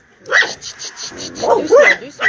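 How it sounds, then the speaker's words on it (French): A dog inside a kennel box gives several short, sharp barks and yips in an irregular series, loud and close, with a bit of talking mixed in. "Donc là, elle qui aboie."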